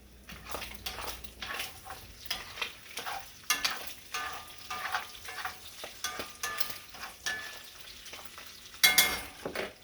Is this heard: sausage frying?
yes